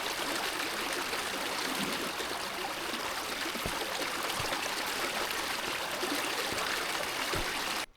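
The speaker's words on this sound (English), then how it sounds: "First thing I'm going to do is filter some water" Water trickles steadily through a hiking water filter at a campsite, a continuous close hiss of flowing water with a few faint drips and taps, alone without voices.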